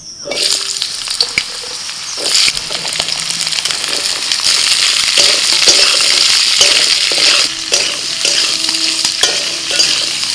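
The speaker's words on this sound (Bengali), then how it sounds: "এবার তেলের মধ্যে দিয়ে দিচ্ছি আলু আর পেঁয়াজ কুচি।" Potatoes and chopped onions frying in hot oil, a loud steady sizzle close by with repeated scraping clicks and knocks of stirring throughout, no voices.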